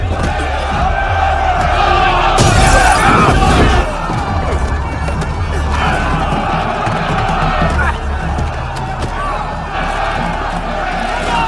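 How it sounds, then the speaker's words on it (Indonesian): Protesters rioting in a film scene: a dense, loud, continuous crowd commotion of shouting and clashing, swelling into a sharper burst early on before settling into steady chaotic roar. "para pendemo pun langsung ricuh sehingga membuat suasana semakin kacau"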